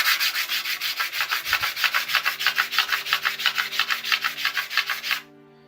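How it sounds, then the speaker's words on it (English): A ring sanded by hand with 240-grit paper on a glass plate, about twenty quick, rhythmic back-and-forth rasping strokes close up, stopping abruptly at the end. "I'm just gonna start with the 240 paper to get rid of all the scratches"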